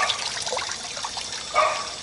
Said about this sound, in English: So I've got water coming through here also